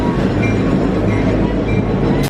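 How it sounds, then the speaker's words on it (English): Steady, dense rumble and clatter of the Stone Mountain Scenic Railroad train rolling past, continuous and fairly loud with no voices. "here comes the train"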